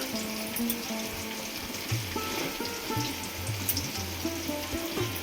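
Bay leaves and garam masala sizzle steadily in hot oil, a continuous close crackle with faint tonal music running underneath throughout.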